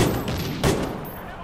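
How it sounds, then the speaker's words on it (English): Gunfire in the online shooter Call of Duty, set in a post-apocalyptic Las Vegas: a sustained rattle of shots with a louder burst midway, under a busy battle mix. "I'm taking fire over here!"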